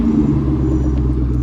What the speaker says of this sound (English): There's a rattle somewhere, or I think my muffler blew out or something.